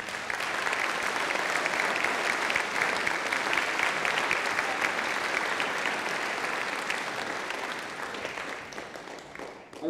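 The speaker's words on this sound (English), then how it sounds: "can we give a round of applause to all the middle school band directors?" Concert audience applause for middle school band directors at a high school band final concert; a full, continuous roar of clapping from a large crowd lasting several seconds, easing slightly near the end.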